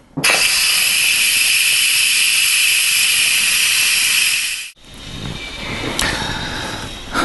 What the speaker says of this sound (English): I'm going to open the steam valve at the top now.